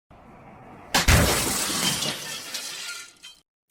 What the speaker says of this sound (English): So if I need a sound effect of a car crashing through a glass window, I can generate that